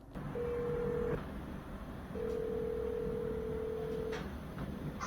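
Telephone tones sound as a call is placed to a lawyer, two steady electronic beeps in sequence, the second held about two seconds, over a constant background hum.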